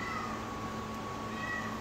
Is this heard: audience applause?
no